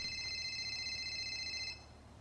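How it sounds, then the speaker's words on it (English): In-game phone in GTA 5 ringing with a steady electronic warble at low volume for under two seconds, then cutting off to quiet background. "I hear the phone ringing on you"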